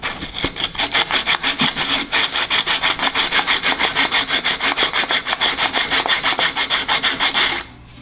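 A small fine-kerf hand saw cuts through wood for turned wood flowers, with steady, loud back-and-forth rasping strokes in an even rhythm that stop abruptly near the end, no talking.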